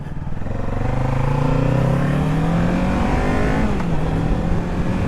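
A Kawasaki Ninja 650 motorcycle rides along, its engine revving up with a rising whine and then easing off as the rider shifts, loud and close with wind noise and no talking.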